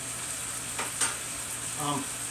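Texas hot chili sauce is stirred in a pot with a spoon, a few soft scraping strokes over a low, constant simmering hiss, fairly quiet and without talk.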